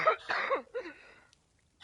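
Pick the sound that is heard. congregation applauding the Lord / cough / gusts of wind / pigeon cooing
cough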